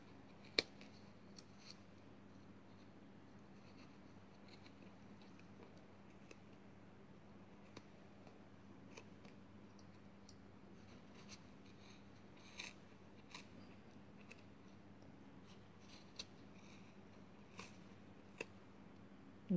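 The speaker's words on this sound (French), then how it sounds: "J'ai des ciseaux qui coupent pas." Scissors snip through yarn wrapped around a piece of cardboard, giving a series of faint, sharp clicks and cuts at an irregular pace against a quiet low hum.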